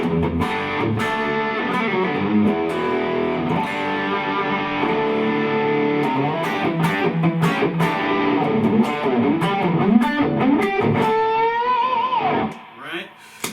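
An electric guitar with heavy distortion overdrive plays thick, sustained riffs at a steady loud level, then ends with a bending note and a brief fade, with no talking over it.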